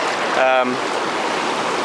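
Fast water rushes steadily along Reedy Creek, a swollen stream in Victoria where gold is being dug. It makes a close, continuous wash, and a brief voice-like tone breaks in near the start.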